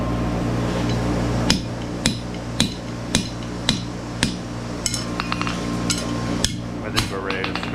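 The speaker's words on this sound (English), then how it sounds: "it's just a clicking and clacking of the hammer." Sharp, ringing hammer blows on hot steel while forging a branching scroll, struck at a steady rhythm roughly every half second, close and loud, with a faint low hum beneath.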